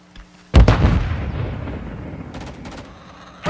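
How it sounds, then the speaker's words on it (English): A grenade explodes in Call of Duty Modern Warfare 3 hardcore multiplayer: one loud, close boom with a long rumbling tail, followed by faint scattered crackles and a sharp pop at the end. "Grenade out."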